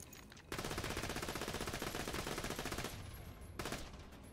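Rapid automatic fire from the Stalker gun in Borderlands 2, a dense continuous burst of loud shots that runs for about two and a half seconds, then tapers off briefly before a shorter burst.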